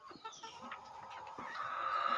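Egg-laying breed chickens cluck steadily nearby amid a busy farmyard backdrop of overlapping bird calls.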